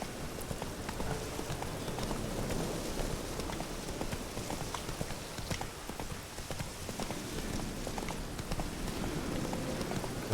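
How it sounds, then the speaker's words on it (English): Horses' hooves clopping steadily in The Witcher 3 video game, a continuous rhythmic trot heard through a bed of falling rain, moderately near and without talk. "Oh, I guess that's our horses."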